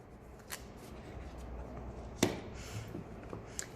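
Oracle cards being shuffled by hand, with a few soft riffling and tapping sounds close by in a quiet room and no talking.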